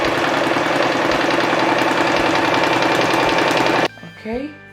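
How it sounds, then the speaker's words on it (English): A sewing machine runs steadily as it stitches a line on fabric for a gathered skirt, a close, even mechanical whir lasting nearly four seconds before stopping abruptly, followed by a brief faint rustle. "so I'll start stitching."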